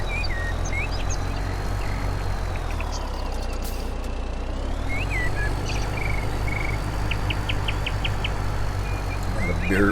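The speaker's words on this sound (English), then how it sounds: "Bird sound down here." Bird chirps and short tweets in Farming Simulator 17, the Spectacle Island map, sound intermittently over a steady low vehicle engine drone, with a few chirp bursts and a rising whistle-like tone.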